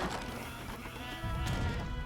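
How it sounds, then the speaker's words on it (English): Sheep bleat over a dense, noisy Age of Empires 3 game soundscape, with a louder burst of rumbling activity in the second half. "gonna start killing those sheep now."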